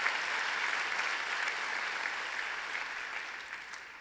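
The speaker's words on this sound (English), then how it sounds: "please give a round of applause to these distinguished alumni who graduated 55 years ago" Sustained applause from a large commencement audience honoring alumni at a 2017 graduation ceremony, a steady wash of many hands clapping, moderately distant and gradually fading.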